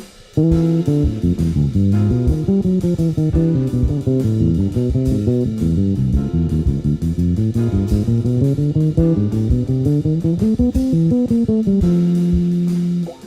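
A bass guitar improvises a continuous, flowing minor melodic line of steady notes in a low register, unaccompanied and close.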